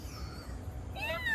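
A person imitates a cat with a short, quiet meow, a single rising-and-falling mewing call that is brief and fairly soft.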